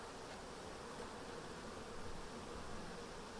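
Honey bees buzz in a steady, dense drone while frames are moved from a nuc into a hive, a continuous close hum with no breaks and no talking.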